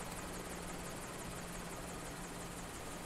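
Simulated MV-22 Osprey tiltrotor blades in flight in MSFS 2020 give off a continuous, even rotor whir and buzz, steady and alone.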